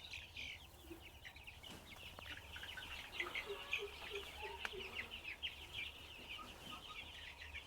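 Twenty-day-old chicks at a farm give continuous soft clucks and chirps, many birds at once at moderate level over a steady low hum, with no speech.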